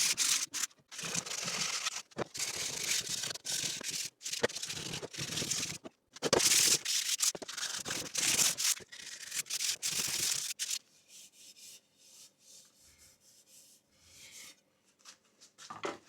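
Sandpaper rubbing over a small handmade wooden axe handle, a run of quick, close scratchy strokes with brief pauses, then fading to quieter, sparse rubbing near the end.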